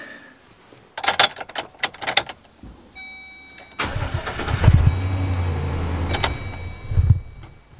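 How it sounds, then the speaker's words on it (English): Clicks and a brief whir, then a converted camper van's engine cranks and catches, settling into a steady close idle with a rumbling low end. "Engine starts."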